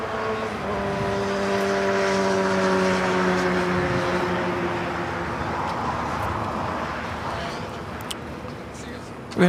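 An Alaska Airlines jet takes off from runway 25 right at LAX: a loud, steady engine roar with a droning whine that eases slightly toward the end, with a muffled voice underneath.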